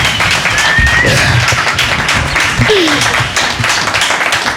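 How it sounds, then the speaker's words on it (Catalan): A talk show studio audience applauds at the show's premiere, with many hands clapping loudly and continuously throughout while a few voices call out faintly underneath. "Un aplaudiment."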